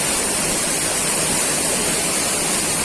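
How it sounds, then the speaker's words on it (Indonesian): Cisalada Waterfall pours down in a loud, steady roar of rushing water, a dense unbroken wash of spray that fills the whole scene up close with nothing else audible. "Cisalada Waterfall."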